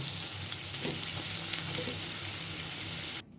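Paneer balls deep-frying in hot oil give a steady, dense sizzle that holds evenly for about three seconds, then cuts off abruptly to near silence.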